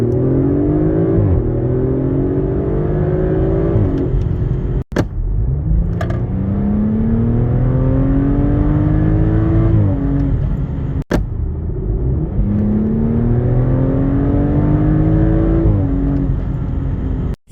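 A 2023 Audi RS4 Competition engine accelerating hard, loud rising revs through several upshifts with short gaps between gears, then climbing again, with no talk over it.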